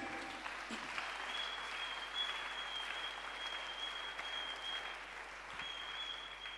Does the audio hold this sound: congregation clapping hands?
yes